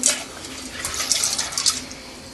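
Running water splashes steadily into a container as macaroni is rinsed, a continuous close hiss with small sloshing bursts.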